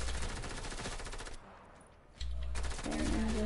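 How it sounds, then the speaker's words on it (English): Submachine gun fire in a video game, rapid bursts of automatic shots loud and close, with a brief lull before firing resumes alongside other game sounds. "SMG."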